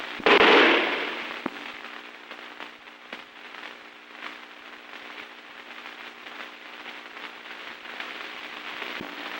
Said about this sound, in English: The firing squad.